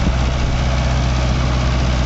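A Mahindra Novo 655 tractor engine drives a 9-foot rotavator through hard black soil, a loud, steady low drone with an unbroken mechanical rumble and no let-up for the whole stretch.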